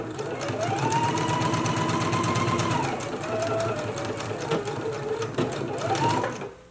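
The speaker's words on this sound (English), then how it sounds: "So let's go ahead and do that stitch now." A sewing machine top stitches across a dress pocket with a fast, even mechanical chatter that runs almost continuously and changes pitch as the speed shifts, close and clear with no talk over it.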